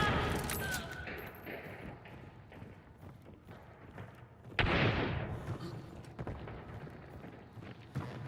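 A Centennial rifle fires in the video game Hunt: Showdown, with one sharp, loud report ringing out midway over a quiet, rustling background, followed by a few fainter knocks.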